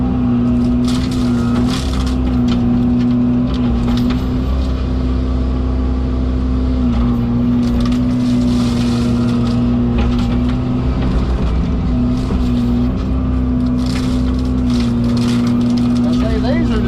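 A Fecon FMX36 forestry mulcher runs on higher hydraulic flow with a loud, constant engine drone and steady hum, while crackling and crunching bursts from cutting brush and wood come and go throughout.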